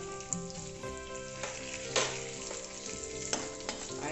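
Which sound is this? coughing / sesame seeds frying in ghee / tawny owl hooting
sesame seeds frying in ghee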